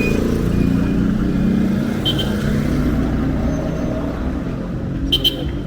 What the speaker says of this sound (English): Car crossing.